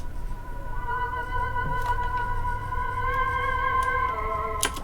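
A spooky choir effect from Guitar Rig at full wet mix forms a layered, eerie sustained pad of drawn-out tones over a hissy, rumbling bed, with faint clicks scattered through it.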